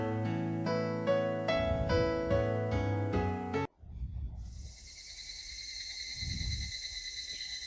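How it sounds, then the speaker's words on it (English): Cicadas sing at sunset in the Higurashi video game: a musical passage gives way to a steady, shrill insect drone that holds loud and continuous to the end. "The cicadas began their song as if to tell me to stop and head home."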